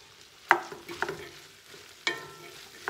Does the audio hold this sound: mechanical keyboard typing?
no